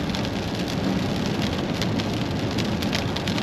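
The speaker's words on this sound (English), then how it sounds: "Pretty interesting to see the rain." Heavy rain from a hurricane storm by a lake pours down in a dense, steady hiss, loud and constant throughout with no voices.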